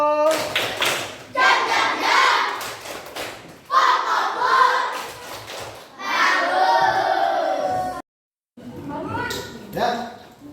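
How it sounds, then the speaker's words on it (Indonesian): A class of elementary schoolchildren clapping and cheering in bursts, with loud rhythmic hand claps mixed with shouting voices, separated by brief pauses. "Iya, tepuk tangan."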